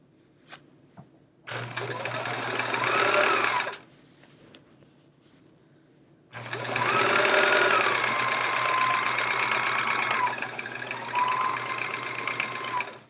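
A sewing machine stitches improv-pieced chevron quilt pieces in two close, loud bursts of steady whirring, the first about two seconds long and the second longer, separated by a quiet pause with faint handling noises.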